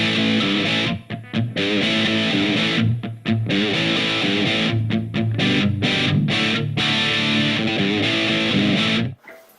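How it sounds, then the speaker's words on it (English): A distorted electric guitar through a Fender Mustang GT40 amp on its 60s British amp model plays loud chords and riffs with short choppy stops and restarts, then cuts off abruptly near the end. "I'll start with the 60s British sound"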